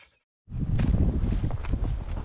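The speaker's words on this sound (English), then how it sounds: "I love that wind." Wind gusting on the Appalachian Trail, a sudden loud rush of buffeting noise close to the microphone after a brief quiet start.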